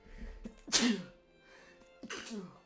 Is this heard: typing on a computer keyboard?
no